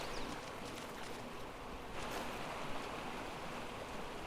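Continuous rushing water from a waterfall beneath a stilt house in Ark Survival Ascended, a broad steady roar with no breaks.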